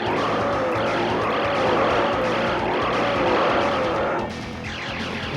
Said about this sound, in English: Look at that Ferrari.